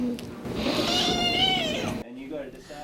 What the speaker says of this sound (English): All the kittens running around,